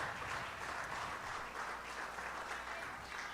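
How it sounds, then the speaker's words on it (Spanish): A church congregation applauds together in a continuous, even burst of clapping that fills the space for a few seconds, with no speech over it. "Yo creo que eso se merece un aplauso al Señor"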